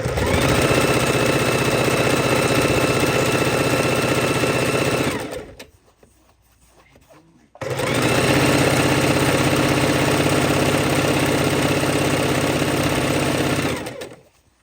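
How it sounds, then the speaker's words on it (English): Sewing machine running a quarter-inch seam on quilt strip blocks in two long, steady buzzing bursts separated by a short pause, close and loud with a constant mechanical whir. "And you're running your 1/4 inch seam."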